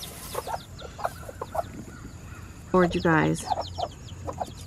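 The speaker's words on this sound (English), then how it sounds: "those two hens just went at it" Two hens squabble on a farm, a burst of loud, harsh squawking and clucking in the middle, with softer clucks before and after while someone talks over them.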